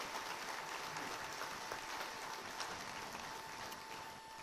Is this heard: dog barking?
no